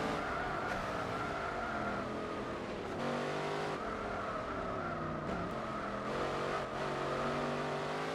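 A Cizeta V16 in Gran Turismo 4 roars continuously with a high, strained engine note and shifting pitch, tire squeal and skidding mixed in as the car slides, loud and unbroken throughout.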